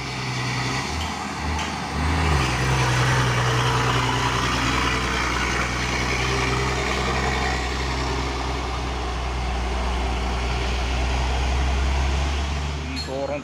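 A Hino 500 truck idles with a steady low diesel rumble and hum, loud and continuous, amid heavy rain noise, with voices talking over it.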